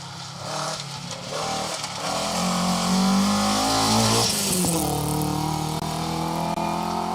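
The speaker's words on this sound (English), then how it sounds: "Bit of a misfire there for Alistair Brealey." A two-wheel-drive rally car engine roars loudly and revs up on a rally special stage, its tone rough and uneven with stuttering misfires as it passes close by.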